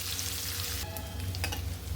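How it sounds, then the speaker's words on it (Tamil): Sliced onions sizzle and crackle in hot oil for a raw jackfruit gravy, a continuous frying hiss with a steady low hum beneath and a few brief stirring scrapes. "வெங்காயம் நல்லா வதங்கட்டும்."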